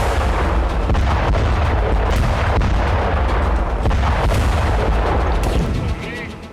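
Israeli air strike explosions on Hezbollah positions roll out as a dense, continuous roar of blasts and rumbling, loud throughout before easing off near the end.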